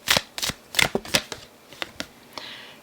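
Tarot cards being shuffled during a reading, a short run of crisp riffling and slapping bursts, close and clear, fading into a few lighter taps.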